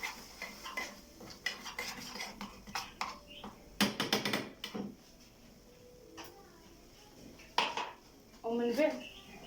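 A spoon stirs flour and butter in a pan to make a béchamel sauce, giving close, irregular scraping and clinking against the metal with a faint sizzle, and a voice murmurs quietly at times.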